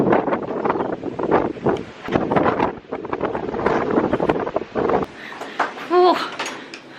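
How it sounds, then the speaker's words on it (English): Heavy wind buffets the microphone in a loud continuous roar, with a person speaking over it and a brief calmer stretch near the end. "It's pretty windy out there."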